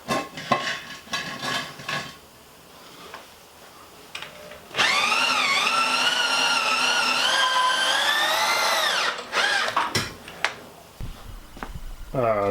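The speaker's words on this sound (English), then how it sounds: "I'm definitely going to smoke this drill." Clattering and knocking noises, then an overheating power drill runs loudly for several seconds with a wavering whine, followed by more rattling handling sounds.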